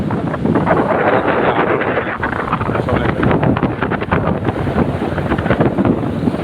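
Small sea waves wash onto Cox's Bazar beach in a continuous, broadband roar, mixed with heavy wind buffeting the microphone and no distinct breaks standing out.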